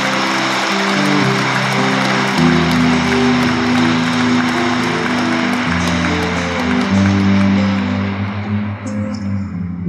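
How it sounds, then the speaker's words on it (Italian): Congregation at an Italian Catholic wedding Mass applauds the newlyweds inside the church, a steady, dense wash of clapping sustained for about ten seconds at full volume with no voices over it. "Facciamo loro un applauso."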